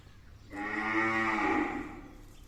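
A cow at a rural cattle market lets out one long, drawn-out moo that rises and then fades. Faint background noise sits beneath it, and no one speaks.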